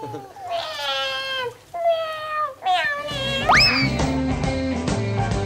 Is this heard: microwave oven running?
no